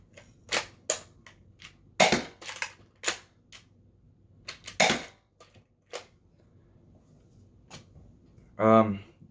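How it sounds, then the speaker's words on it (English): Dart Zone Pro MK2 foam dart blaster firing: a rapid series of sharp, dry snaps and clicks, some louder than others, with quiet gaps between, followed by a short burst of speech at the end. "And then you're ready to fire."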